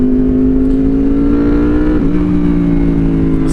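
A Honda VFR800 motorcycle engine with VTEC revs steadily and loudly up close, a strong continuous drone that shifts pitch slightly partway through, with no voices.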